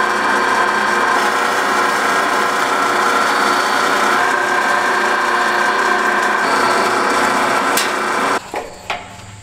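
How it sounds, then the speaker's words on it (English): A lathe machines a half-inch aluminum rod, giving a loud, continuous whirring and grinding drone that runs steadily for about eight seconds and then cuts off, leaving faint clinks. "got the lathe."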